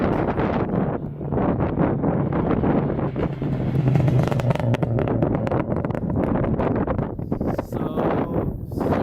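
An Acura RSX fitted with a Skunk2 Alpha header and Megapower RR 3-inch exhaust drives past, a loud rough engine roar mixed with heavy wind buffeting on the microphone, swelling mid-pass and continuing to the end.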